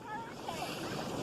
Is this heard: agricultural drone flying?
no